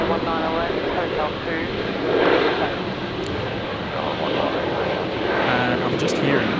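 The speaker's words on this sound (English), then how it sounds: "So Jetstar 820 just touched down there. The 320 arriving from Sydney onto 19 left." Jetstar Airbus A320 arriving from Sydney and touching down on runway 19 Left, a steady jet engine roar and rumble that swells midway, under ongoing talk and radio chatter.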